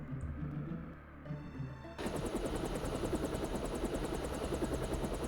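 Helicopter rotor in the Deus Ex video game, a loud rapid thudding chop with a high whine that cuts in abruptly after a quieter, muffled opening and holds steady to the end.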